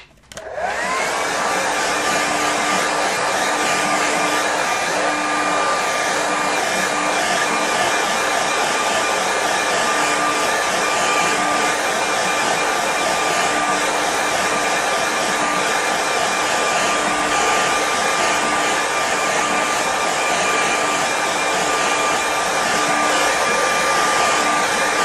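A hair dryer blows steadily to dry wet paint on a mountain landscape painting, a loud continuous whir with a constant hum running alone and unbroken throughout.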